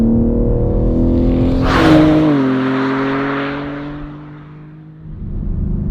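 BMW M3 at full throttle on the Goodwood track, its engine a loud, steady high-pitched roar that drops in pitch under braking, then falls quieter before picking up again, with wind rush in the middle.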